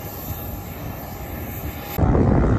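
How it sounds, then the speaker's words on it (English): A Dash 8 turboprop airliner drones loudly and steadily at Blackpool Airport, its engine noise swelling abruptly louder partway through, with no voices. "that bloody little plane making such a racket over there"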